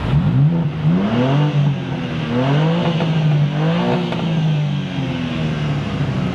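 A BMW M2 sports car engine revs repeatedly close by, its pitch climbing and falling in several loud, rising sweeps over a steady throaty rumble.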